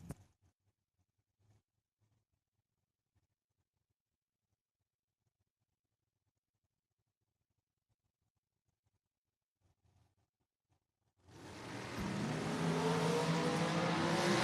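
Diamond Chassis Dragster and a rival dragster launching at a drag strip: near silence, then a sudden loud, harsh engine roar bursts in and keeps accelerating to the end.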